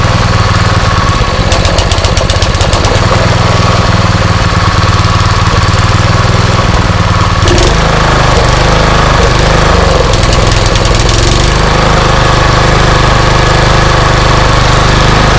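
Honda GX160 small engine with a suspected carburetor problem runs loud and close, warming up with a steady, slightly uneven mechanical drone and knocking throughout.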